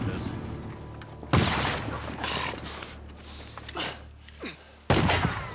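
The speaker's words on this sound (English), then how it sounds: "Ned shot my bike!" Gunfire in the Days Gone video game: two sharp, loud shots about three and a half seconds apart, with mechanical clatter and creaks between them and players talking faintly underneath.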